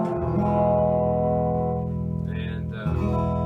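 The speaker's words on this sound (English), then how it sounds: "But this is just reverb" A sustained electric guitar chord rings out drenched in reverb from a vintage Roland RE-201 Space Echo tape echo unit, the tail washing and decaying, followed by a brief higher swell and another ringing chord.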